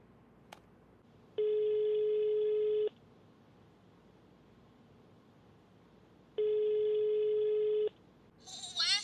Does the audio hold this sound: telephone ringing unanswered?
yes